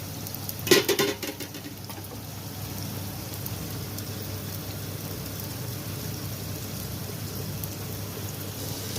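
Purslane leaves being stirred in a pan while cooking for a leaf sambar, with a steady close sizzle throughout and a brief clattering scrape near the start. No one speaks.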